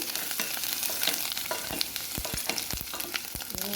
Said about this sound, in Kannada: ಇವಾಗೆಲ್ಲ ಎಲ್ಲ ಫ್ರೈ ಆಗ್ತಾಯಿದೆ ಫ್ರೈ ಆಗ್ತಾಯಿದೆ